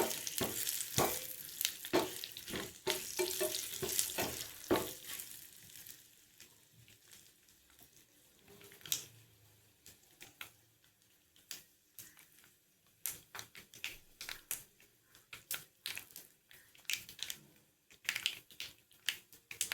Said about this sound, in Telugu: అది చిట్టపట్ట చిన్న సప్పుడు వస్తుంది కదా, అలా అంటే ఏగిపోయినట్టు